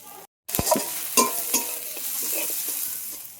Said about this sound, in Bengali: আলু দিয়ে এখন মশলাগুলো ভালো করে ভেজে নেব